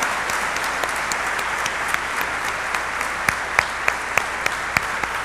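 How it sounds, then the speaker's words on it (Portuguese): Church congregation applauding during a Portuguese-language service, a steady dense clapping with a few sharper individual claps standing out near the end. "você pode dar uma salva de palmas?"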